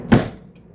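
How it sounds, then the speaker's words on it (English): A door on a 2024 Flagstaff Shamrock 233S travel trailer is pushed closed with a gentle slam, giving one short, solid thud close by that fades out quickly, with a faint rattle just after. "these doors work best when gently slammed"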